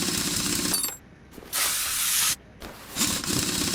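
Spray gun hissing in the Car Mechanic Simulator 2021 video game: two steady bursts of bright hiss, each about a second long, separated by short pauses amid background game noise.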